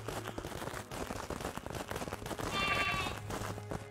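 A sheep bleats in the Craftopia video game, a wavering mid-pitched cry rising clearly over a busy bed of game music and effects, with the bleat itself standing out briefly near the end.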